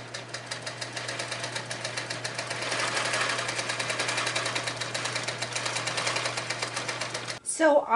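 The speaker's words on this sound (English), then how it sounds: "So I was stitching up some blue bonnet blocks. The sound on my machine changed significantly" A longarm quilting machine stitching quilt blocks, a close, fast, evenly pulsing mechanical chatter with a steady motor hum, running continuously before stopping abruptly near the end.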